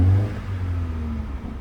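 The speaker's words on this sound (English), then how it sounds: "Ooh, sweet little 4-cylinder." A low-mileage BMW X2 xDrive28i with its 2-liter four-cylinder engine settles into a steady, close idle after an initial rev, the low hum running smoothly on its own.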